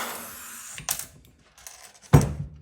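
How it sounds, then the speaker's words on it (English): A pneumatic riveter sets a rivet during Cessna 182 center console assembly, with a soft hiss and whir, then a sharp, loud mechanical burst near the end, heard up close in a quiet space. "So we're going to fit the pneumatic riveter in here."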